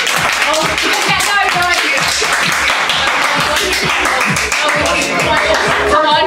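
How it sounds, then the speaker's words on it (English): Dense, loud hand clapping from a crowd at a 20th birthday celebration, continuous and energetic with music or chatter mixed underneath throughout. "Everybody clap your hands!"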